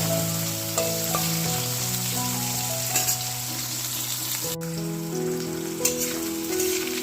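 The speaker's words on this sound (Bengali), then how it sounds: "আলু ভাজাটা এরকম হয়েছে খুব বেশি ভাজবো না" Potatoes fry in a pan with a steady, continuous sizzle that holds at an even level throughout, close up, with faint tonal sounds underneath.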